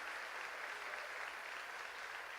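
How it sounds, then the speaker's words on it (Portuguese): Church congregation applauding during a sermon, a steady, even wash of many hands clapping together, distant and fairly faint, with no voices over it. "Você pode aplaudir ao Senhor?"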